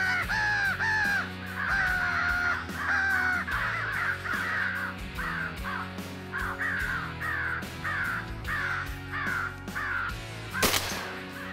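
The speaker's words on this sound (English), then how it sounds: "the birds are coming" Loud, continuous cawing from many crows in a field during a crow hunt in Carolina, the rough calls stacking over one another, with a brief sharp knock near the end.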